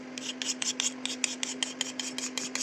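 Knife blade rasping in quick repeated strokes over a sharpening stone being prepared for an aluminium Apex blank, a steady rhythmic series of close scrapes with a constant low hum underneath.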